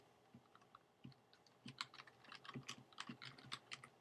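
Keys clatter on a computer keyboard as text is typed into a web editor, a sparse few taps at first, then a quicker, steady run of close, crisp clicks, with no voices.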